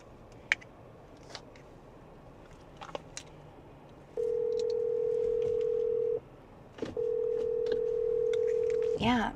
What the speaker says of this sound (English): Calling Kyle phone